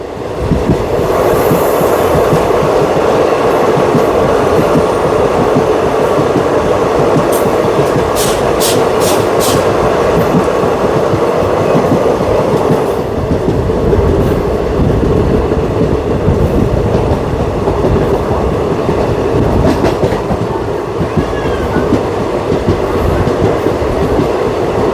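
The Salasar Express passenger train rolls along the rails between Delhi and Jodhpur, a loud, continuous rumble with steady clatter and a few faint high squeals, heard from close by.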